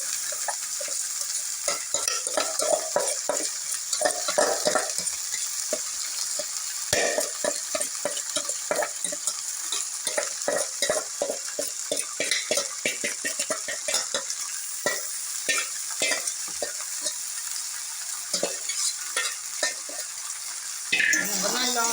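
Potatoes frying with mustard seeds in a pan for an Onam-style potato thoran, a soft continuous sizzle broken by frequent rhythmic scraping and tapping of a spatula, close and fairly quiet.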